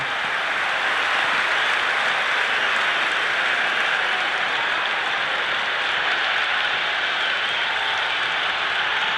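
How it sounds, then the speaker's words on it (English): A stadium crowd roars and cheers in the video game Cricket 26 during a World Cup match between Pakistan and Sri Lanka, a dense, loud, unbroken wall of noise. "The crowd is electric right now."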